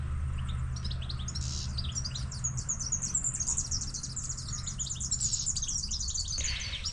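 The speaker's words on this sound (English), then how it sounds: "I don't even hear the road, you hear the birds." Many birds chirp and tweet in a quiet, peaceful off-leash dog park on the plains beside a road near Ross, Tasmania, a dense chorus of quick high calls running throughout over a low steady rumble.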